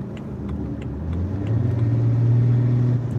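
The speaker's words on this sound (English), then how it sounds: "my 335D has a massive boost leak" A BMW 335d diesel with a massive boost leak from a charge pipe that needs replacing rumbles steadily up close, its engine note swelling and rising partway through.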